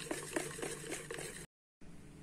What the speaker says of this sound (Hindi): अब मैं इसको अच्छे से मिक्स कर लूंगी